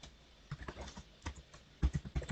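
Fingers type text on a computer keyboard, producing irregular close, soft key taps in small bursts, with a few heavier strikes near the end and no one talking.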